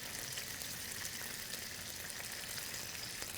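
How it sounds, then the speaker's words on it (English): Miso-glazed salmon fries in an oiled pan with a soft, steady sizzle, faint and even throughout with no talking. "I have a fair amount of oil in the pan, which will help prevent the fish from sticking"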